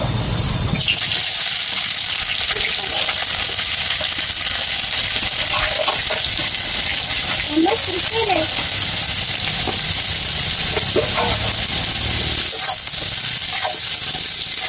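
Onions and green chillies fry for biryani in a village-style outdoor setting, with a loud, steady hissing sizzle throughout and a few faint clinks and scrapes of stirring.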